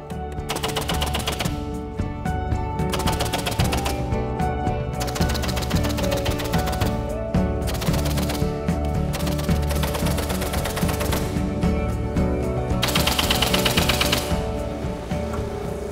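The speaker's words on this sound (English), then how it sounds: "So I'm gonna go ahead and staple the wall." A pneumatic stapler fires staples rapidly through insulation mesh into a wall cavity, giving dense rattling bursts of sharp clacks with short gaps between runs, loud and close throughout.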